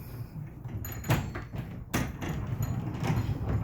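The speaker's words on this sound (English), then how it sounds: "we have our bathroom that's got 2 sliding doors" The sliding doors of a Disney Caribbean Beach Resort hotel bathroom roll and bump twice, two short scraping thuds over quiet room tone, close by and fairly soft.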